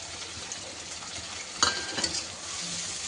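Chopped tomatoes hit a hot frying pan with a steady oily sizzle, broken by a few sharp scrapes and clinks as they are stirred, close and without talk.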